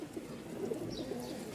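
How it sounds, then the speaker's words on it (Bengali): Domestic pigeons cooing close by in a loft or cage, soft low rolling coos repeating over a steady murmur of the flock, with no talking. "এখানে মোট 3 জোড়া কবুতর আছে।"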